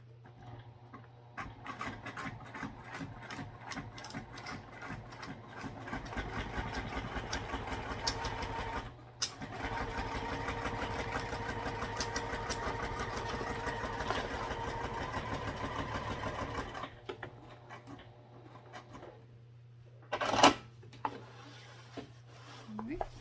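A sewing machine fitted with a zipper foot runs in a long steady stitching burst along the bottom of pockets, its motor humming close by, with quieter stops and a clack near the end.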